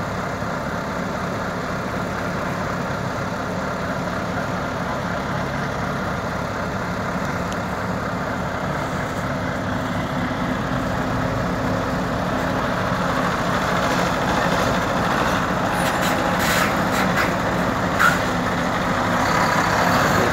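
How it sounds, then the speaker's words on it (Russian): A light tractor engine runs steadily and loudly, straining as it pushes a heavy truck stuck deep in snow, with a continuous low rumble that builds slightly toward the end and no voices. "сейчас с разгона, может и пойдет трактор легкий"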